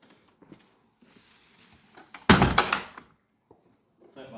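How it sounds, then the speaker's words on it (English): A stable door swings shut with one loud, close thud, set between a few quieter footsteps and knocks. "I need to make sure we shut the door"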